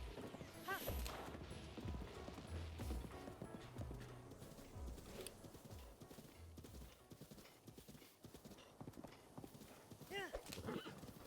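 A horse gallops with steady clip-clop hoofbeats in a Zelda game set on the Great Plateau. It neighs loudly at points, over continuous game sound and a player's talk.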